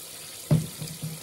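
Tap water running into a sink for washing hair at a salon during a hair-system fitting, a soft splashing burst that tapers into a low steady trickle.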